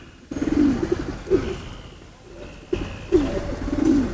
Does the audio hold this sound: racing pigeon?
yes